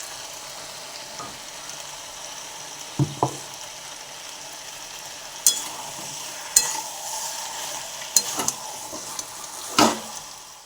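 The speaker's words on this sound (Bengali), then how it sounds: "তো ডিম ভেজে নিচ্ছি" Eggs frying in a pan with a continuous sizzle, broken by several distinct scrapes and taps of a spatula, close and clear with no talk.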